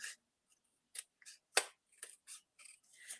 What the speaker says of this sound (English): I'm just going to cut along there with my scissors and just cut that edge.